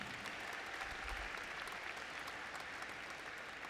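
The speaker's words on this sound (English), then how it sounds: "Let's keep that applause going one more time for Alexis and Keith." A large audience at a college inauguration ceremony keeps up continuous, even applause, a dense wash of clapping at a constant level throughout with no voices breaking through.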